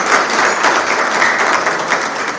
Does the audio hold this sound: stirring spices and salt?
no